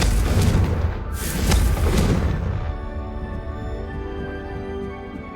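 Confringo spell blasts in the video game Hogwarts Legacy go off as a few heavy booming explosions, rumbling loud and close before fading into a softer tonal game music bed.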